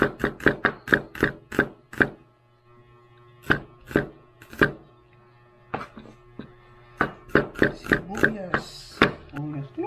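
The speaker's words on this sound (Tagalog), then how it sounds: "Hiwa ng sibuyas." A knife chops onion on a cutting board in a home kitchen, with quick, close, rhythmic taps coming in bursts, separated by pauses and faint background sounds.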